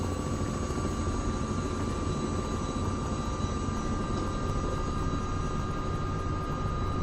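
A helicopter in Microsoft Flight Simulator 2024 gives a steady, dense rotor and engine drone that holds at an even level throughout, with no talk over it.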